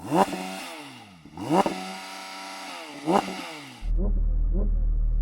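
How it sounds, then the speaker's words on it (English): A Porsche engine revs in several loud bursts at a drag race event, each pitch rising and falling back, then settles into a steady, rumbling idle. "Nick, can you rev up your car?"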